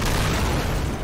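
Javelin missile launcher explosion in Call of Duty: Modern Warfare II, a loud, dense, continuous booming blast filling the brief moment with no talk.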